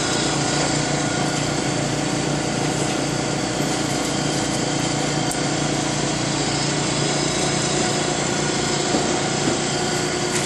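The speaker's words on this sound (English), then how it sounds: "It's currently cycling 300 millimeter wafers." KLA-Tencor F5x wafer handler cycling 300 mm wafers, a continuous loud mechanical whir and hum with steady tones throughout, no pauses and no talking.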